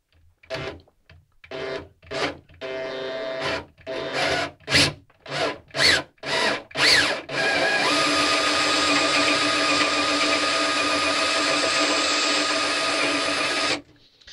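A power drill bores into wood from the outside of a sailboat hull in a series of short bursts, then runs continuously with a loud, grinding whir for several seconds before stopping.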